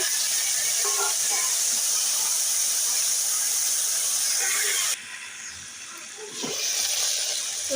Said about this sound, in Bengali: মুখি আর আলুটা আগে ভেজে নেব